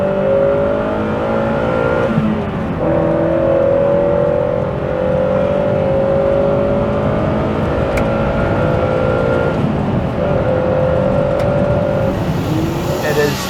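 A 1997 Honda Prelude VTi-R with the H22 engine revs as it accelerates, a loud, close engine roar with rising and falling tones through the gears, heard continuously from inside the car.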